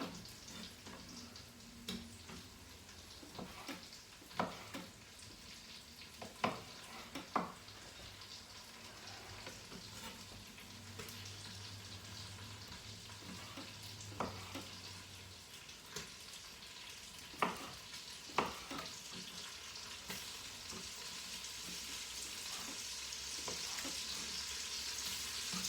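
Bite-sized chicken pieces cook quietly in a pot, giving a soft, steady sizzle broken by occasional clicks and light clinks of stirring.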